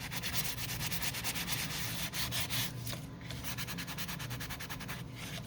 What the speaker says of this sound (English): Being very careful not to rub the sandy block on my acetate, of course.